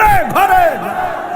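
A large crowd at an outdoor religious sermon roars slogans in unison, loud, close and rising and falling in long sustained shouts.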